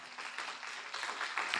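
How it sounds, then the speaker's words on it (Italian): An Italian Sunday-service congregation claps in a short, faint, distant burst of applause with no voices over it. "Dai un forte applauso a Gesù Cristo."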